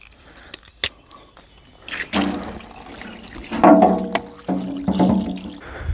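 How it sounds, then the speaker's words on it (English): Water from a tap pours into a bathtub onto dehydrated coconut fiber blocks, starting after a few knocks and clatters and then splashing and gurgling in uneven bursts, fairly close. "so we're just going to fill this up a bit with some water"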